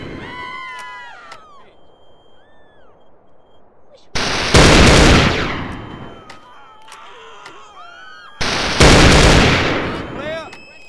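Battlefield 2142 weapons, including the ST-119, fired in a modded GTA San Andreas: loud, close bursts of game gunfire in two heavy volleys, with chirpy electronic weapon tones and quieter stretches in between.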